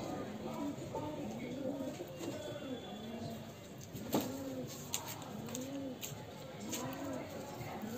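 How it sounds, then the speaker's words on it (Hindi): Dark green short-beaked pigeons cooing in repeated soft rounded calls, several birds close by, with a voice talking over them. "ये सब पांच कबूतर हैं,"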